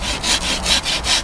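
A rasp rounds off the sharp wooden edge of a bow handle in close, rhythmic strokes, about five quick scraping passes in just over a second.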